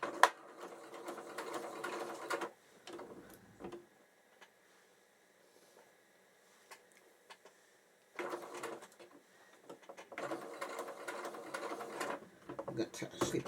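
A sewing machine with a presser foot runs in two stitching bursts, a steady mechanical whir of needle strokes separated by a quiet pause, fairly close and moderately loud.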